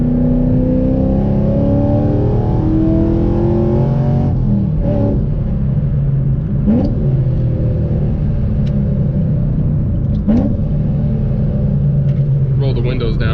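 Cammed 2015 Chevrolet Camaro SS 1LE V8 exhaust gives a steady, loud, lumpy rumble heard from inside the car, with a few brief revs and bumps along the way.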